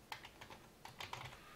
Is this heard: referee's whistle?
no